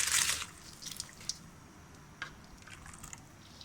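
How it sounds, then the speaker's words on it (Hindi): Rice poured into a pot of boiling water for plain boiled rice to serve with dal, a brief rush of splashing and sizzling at the start, then soft drips and bubbling. "चावल डालते हैं"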